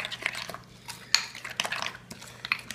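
A utensil clinks and scrapes against a bowl while Creole mayo is stirred, several sharp taps at an uneven pace, close and clear with no talking.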